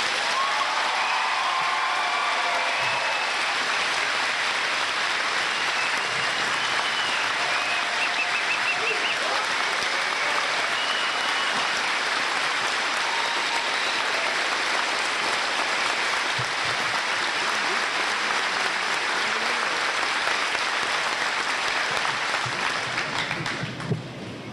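Sustained audience applause at a high school graduation for graduating students joining the armed forces: dense, even clapping from a large crowd, continuous and loud for the whole stretch before tapering off at the end.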